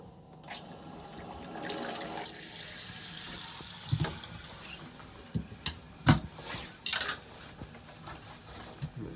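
Household water supply is turned back on and runs into a toilet cistern, a hissing rush with clanks and knocks of fittings and a few louder splashy bursts, close by with no talking.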